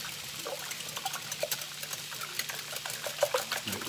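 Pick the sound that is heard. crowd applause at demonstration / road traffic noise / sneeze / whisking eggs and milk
whisking eggs and milk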